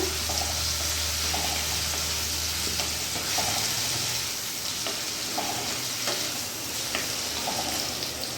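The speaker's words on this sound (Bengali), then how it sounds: "ভালো করে নাড়াচাড়া করে নেব" Kochur loti (taro stolons) frying with salt over a medium flame, a steady close sizzle throughout with occasional stirring scrapes and soft utensil knocks.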